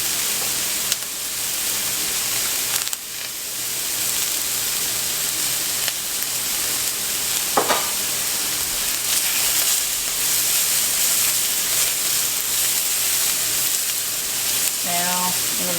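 Onions frying in a hot pan with salt and pepper, a steady close sizzle and hiss running throughout, with occasional faint stirring clinks.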